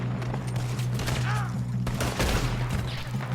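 Gunfire rattles through a shootout beside a train in Red Dead Redemption 2, with repeated close and distant shots cracking in irregular volleys over a steady rumbling background.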